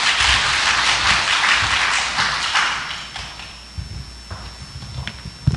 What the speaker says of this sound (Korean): 다시 한번 저희 이지은 강사님께 큰 박수 부탁드리겠습니다